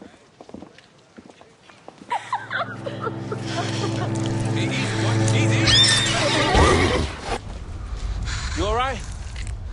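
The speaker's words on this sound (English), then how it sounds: "Sorry about my horse, miss." A horse whinnies loudly and close, a long wavering neigh with snorting and hoof movement, followed later by a shorter trilling call; people talk over parts of it.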